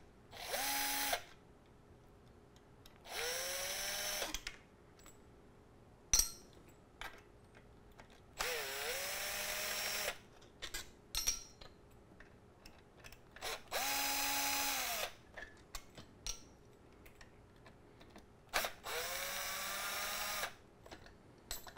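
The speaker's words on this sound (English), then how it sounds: "bear with me while you listen to the driver make noise" An electric screwdriver backs out four 2.5 mm cap screws from a Thrustmaster TH8A shifter plate, six whirring bursts of a second or two each, separated by pauses with light clicks and handling noise, close and unaccompanied by speech.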